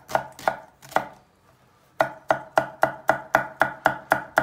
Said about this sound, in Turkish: Bunu da elimizden geldiği kadar malzemelerini çok ince doğrayacağız.